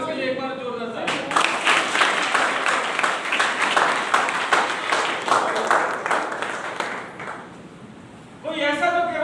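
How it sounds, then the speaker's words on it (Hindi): An audience claps loudly after a call for a round of applause at a Vestige business seminar, a dense sustained burst of many hands lasting several seconds before fading, with a speaker's voice at either end. "सर मुझे एक बार जोरदार ताली"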